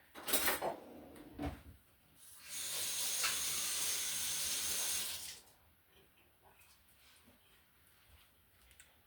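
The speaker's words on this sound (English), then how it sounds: "I'm going to put 2 teaspoons of butter in our pan to start us out." Butter hits a heated pan with a loud burst of hissing sizzle lasting a few seconds, preceded and followed by quieter clatter and soft kitchen handling noises, no talk.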